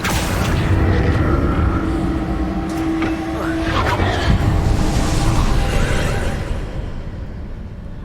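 The Confringo fire-blast spell goes off in Hogwarts Legacy on PS5 as a loud, sustained explosive roar with crackling debris that rumbles on for several seconds before thinning out.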